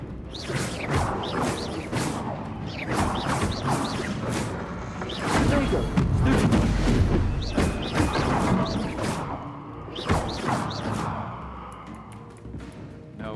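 Fire-spell blasts in Hogwarts Legacy, a burst of whooshes, crashes and clattering impacts repeated through a busy magic fight, loud in places, with a voice talking over the action.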